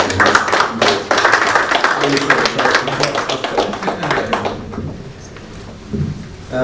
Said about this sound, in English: I just want us to give him a round of applause